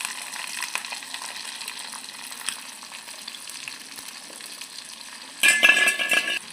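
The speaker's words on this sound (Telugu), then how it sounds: "తాలింపు గింజలు మగ్గినాక పచ్చిమిరపకాయలు వేసుకుంటున్నా." Green chillies fry in hot oil with tempering seeds for a taro curry, giving a soft, steady sizzle with light stirring scrapes. A louder, brighter crackling burst comes near the end.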